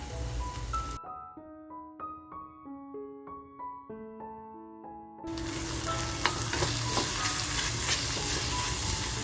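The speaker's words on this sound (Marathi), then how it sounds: "मसाला सुद्धा आहे ना असा मस्त आपला फ्राय झाला पाहिजे करंदी बरोबर" Masala with turmeric and dried small shrimp (karandi) fries in a pan. A loud, dense sizzle fills the first second, gives way to a short melodic music passage, then returns strongly and steadily to the end.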